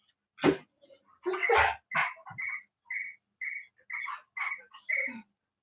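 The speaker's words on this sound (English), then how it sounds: "Jeffy just texted you to hear the crickets go off" Crickets chirp outdoors at night in a loud, close, regular series of high pulses, about two per second, with a brief rustle at the start and no talk.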